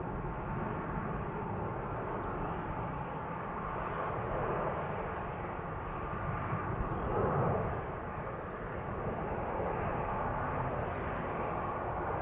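A 17-year-old El Al Boeing 777-200 jet departs Amsterdam Schiphol for Tel Aviv, with a steady, broad engine roar that holds at an even loudness throughout and no voices.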